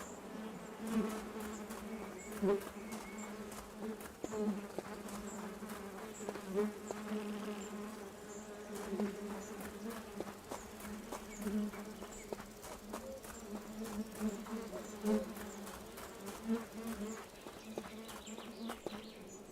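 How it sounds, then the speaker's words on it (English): Bees buzzing around outdoors in a game, a steady droning hum with wingbeat overtones, fairly near, joined by sharp clicking ticks and faint insect chirps, with no talking. "we found the bees"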